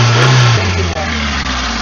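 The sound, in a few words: 2006 Hyundai Santro engine revving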